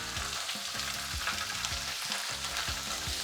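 Meat browns in a hot pot with a steady sizzle and dense crackle, punctuated by rhythmic low scraping strokes of stirring, close and fairly quiet with no speech.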